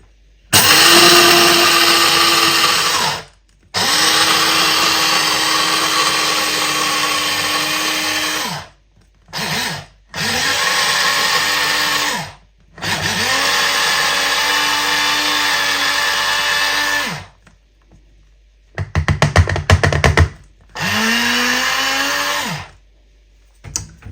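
A blender grinds food into powder in several loud motor bursts of a few seconds each, stopping and restarting with brief silences between runs and a shorter rattling burst near the end.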